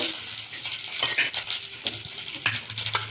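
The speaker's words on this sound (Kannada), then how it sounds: "ಎಣ್ಣೆ ಹಾಕಿದ್ದೀನಿ. ಅದಕ್ಕೆ ಸಾಸಿವೆ, ಸ್ವಲ್ಪ ಜೀರಿಗೆ, ನೀವು ಬೇಕು ಅಂದರೆ ಸ್ವಲ್ಪ ಇಂಗು ಹಾಕ್ಕೊಳ್ಳಿ, ಕರಿಬೇವು." Mustard seeds, cumin, asafoetida and curry leaves sizzle in hot oil in a pan for sambar, a soft, crackling fry with sharp little pops and stirring scrapes.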